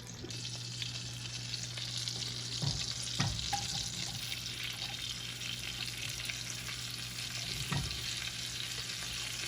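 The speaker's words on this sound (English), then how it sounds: "I added that to my butter in the pan, and then I'm gonna saute them up in there" Food sautéing in butter in a pan, a steady close sizzle with a low constant hum beneath and a few soft knocks of stirring.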